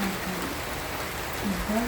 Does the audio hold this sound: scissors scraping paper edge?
no